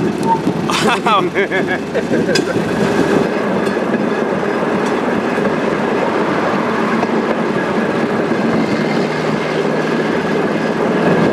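A small ride-on train engine rumbles steadily as it brakes to slow down, with a continuous low running noise and some clicking and squeaks early on, while people talk over it.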